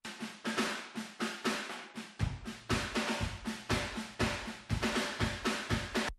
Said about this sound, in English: But mix that in with the pop punk One Kit Wonder shell room sound.